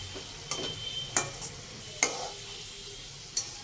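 Snacks sizzle steadily in hot oil in a pan while a utensil turns them, giving a few sharp scraping clicks spread across the frying hiss.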